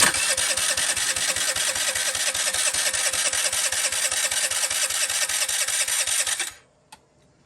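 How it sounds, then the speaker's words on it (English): A 49cc scooter engine fires on a kickstart and runs with a rapid, even putter for several seconds, close and loud, before abruptly dying away to near silence with one faint click. "Let's try kickstart it first, then let's just go."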